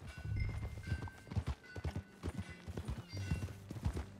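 Horse hooves clip-clop in Red Dead Redemption 2, a quick, uneven run of close, distinct hoof strikes on hard ground, with a brief snort or whinny-like sound mixed in, and no talking.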